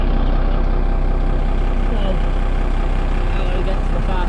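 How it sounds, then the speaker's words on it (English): A car engine idling with the bonnet open, a steady close low rumble that holds without change throughout. "let that idle for a few minutes. Keep that bonnet open because it's going to get hot in there."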